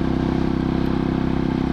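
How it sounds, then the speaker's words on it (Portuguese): A 2007 Husqvarna SM610 motorcycle engine while riding, a loud steady low-pitched thrum with a fast regular pulsing throb, close and continuous with no talking. "Tomara que dê pra ouvir o barulho da moto direitinho aí no som."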